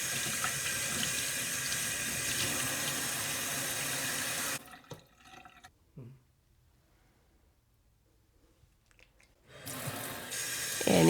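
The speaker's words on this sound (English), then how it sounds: "Now you take it over to the sink and just rinse them off and squeeze and rinse" Water from a sink tap runs loudly and steadily while luffa sponges are rinsed under it, then cuts off into quiet handling noises before the flow starts again near the end.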